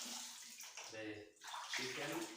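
Tap water runs steadily into a kitchen sink while raw chicken is washed, a close, continuous splashing rush with a brief dip partway through and some sound of handling under it.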